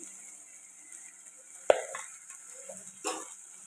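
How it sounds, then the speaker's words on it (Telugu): Spices for a fish curry being stirred in a hot pan, with a soft background sizzle, a sharp scrape of a spoon against the pan, and a couple of brief stirring sounds. "ఇవి ఒక నిమిషం పాటు ఫ్రై చేసుకుంది"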